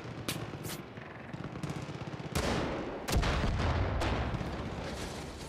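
Gunfire in the Far Cry 5 video game, a few sharp shots followed by heavier booming blasts and rolling rumble, loud and close, with no talking.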